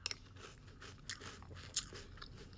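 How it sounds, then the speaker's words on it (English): Crunchy cotton candy cereal being chewed close up, with a few sharp, brittle crunches spaced through a quiet stretch and no talking. "There's a crunch."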